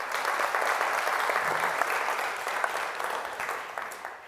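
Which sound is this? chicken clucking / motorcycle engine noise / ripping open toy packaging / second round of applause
second round of applause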